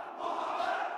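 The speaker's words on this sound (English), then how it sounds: "chanting, "Our Prophet Muhammad, our commander forever," as they march into battle" Fighters chanting a religious slogan in unison as they march into battle near the front line in Aleppo, a loud mass of crowd voices held as a sustained roar for about a second.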